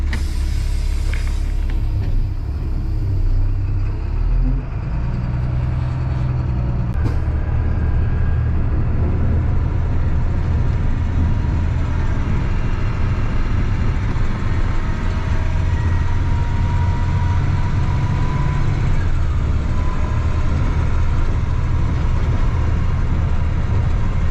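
A township snow plow truck rolls out through a snowstorm, its engine and tires producing a steady, loud low rumble that continues without a break, with no voices heard.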